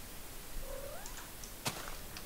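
A Minecraft cat gives one short, rising and falling meow, followed by a brief sharp click. Both sit over faint background noise with no voices.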